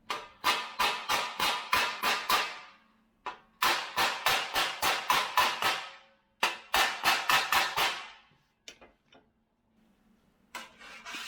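A hammer tapping dents out of a 74-year-old chrome car bumper during restoration: quick, even runs of sharp metallic taps in several bursts with brief pauses, close and loud, with no talking.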